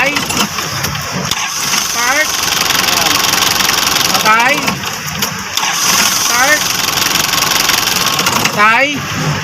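A Nissan Urvan van engine runs after a starter relay fix, giving a close, steady mechanical drone broken by repeated short whining chirps throughout.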